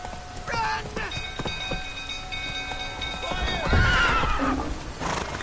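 Roach the horse in The Witcher 3 video game whinnies loudly and trots with clopping hooves, while game music plays and faint voices shout in the background.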